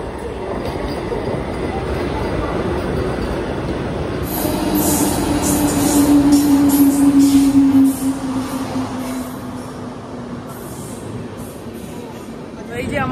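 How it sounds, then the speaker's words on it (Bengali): The Jan Shatabdi Express pulls into a station with rumbling wheels and a rising metallic squeal of braking that peaks and then eases. Voices and platform chatter run underneath. "এই যে আমাদের ট্রেন জনশতাব্দী এক্সপ্রেস এসে পড়েছে"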